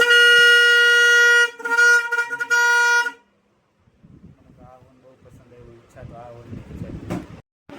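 A newly fitted car horn blares loud and close, first one long sustained blast, then a run of shorter toots, before it stops and people talk quietly.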